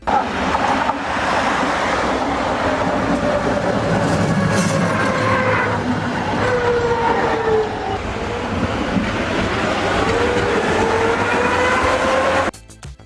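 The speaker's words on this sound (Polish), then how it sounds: "Tramwaje te są przede wszystkim znane z ich charakterystycznego dźwięku ruszania i hamowania." A Konstal 13N tram rumbles loudly along rails, its motor whining up and down in pitch, with squealing brakes as it slows, then a sudden stop.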